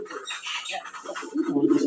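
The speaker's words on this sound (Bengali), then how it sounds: "দেখেন আমার কিছু কবুতর" Domestic pigeons kept as backyard birds cooing close by in a continuous, overlapping run of low, throaty coos over a couple of seconds.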